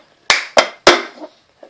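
Three sharp hand claps ring out close by in an uneven rhythm, the hands working alongside a cup in a cup-song routine, with a fainter knock trailing after them.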